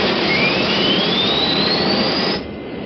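A jet airliner engine spools up on its inaugural flight to Paris, a loud close roar with a rising whine climbing in pitch before the sound drops off abruptly, no voices.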